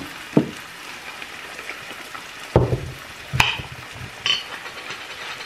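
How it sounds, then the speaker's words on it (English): Tomato going into a pan of frying garlic sauce for Spanish meatballs, giving a soft steady sizzle with a few sharp spoon scrapes and clatters as it is stirred. "as soon as the garlic is done, I'm gonna add the tomato"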